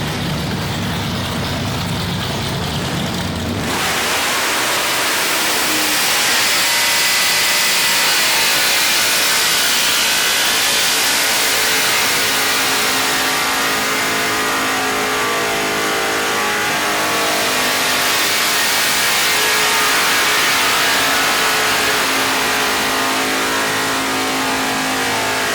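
Mike Finnegan's 900 wheel-horsepower Blasphemi car, in a garage, revs hard into a burnout, producing a loud, sustained engine roar with tire noise that stays intense for over twenty seconds after a short idle.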